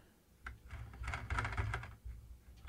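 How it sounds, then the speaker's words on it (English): A ring on a finger rattles against a trackpad or trackball mouse during a synth session, giving a run of light, uneven clicking taps close by with no talking. "sorry about that rattling, that's the ring on my trackpad, or trackball mouse"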